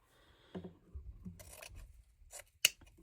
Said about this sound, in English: I'm gonna cut these around 11 inches each